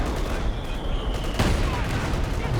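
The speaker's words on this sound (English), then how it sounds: "So artillery for Aljosa though." Artillery and gunfire in a Company of Heroes 2 online 2v2 match, dense continuous crackling fire with a sharper burst midway, loud and close throughout.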